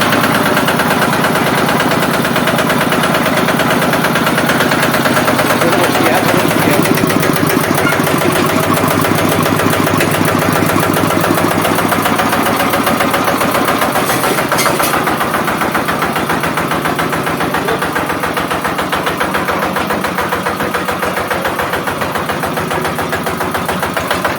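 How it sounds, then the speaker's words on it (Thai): Hand-started engine on a Thai farm vehicle with rear 9.00-16 lug tyres, running at a steady rapid idle thump, loud and close, throughout without speech. "สตาร์ทมือพร้อมนะนี่ ได้สตาร์ทด้วยนะท่านผู้ชม"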